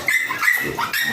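A Chihuahua whimpers and yips in short high-pitched bursts at a farm during artificial insemination, close by, with no talking.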